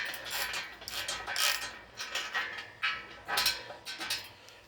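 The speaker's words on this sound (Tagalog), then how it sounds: "I use a 5/8 socket rinse" Ratchet with a 5/8 socket tightening a bolt on a weight bench, giving bursts of quick clicking strokes in an uneven rhythm, close and moderately loud with brief pauses between turns.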